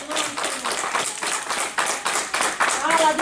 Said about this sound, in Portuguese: Dá salva de palmas ao Senhor